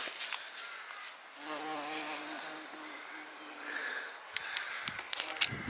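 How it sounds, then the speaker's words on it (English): A large bee buzzes close by with a steady, rising and falling drone that lasts a few seconds, then fades as faint rustles and clicks take over in a quiet outdoor setting. "It's a big old bee."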